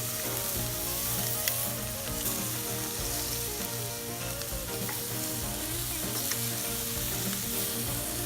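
Shish kabobs sizzle over coals on a Lodge Sportsman's Grill, a dense steady crackling hiss with faint clicks as the skewers are flipped.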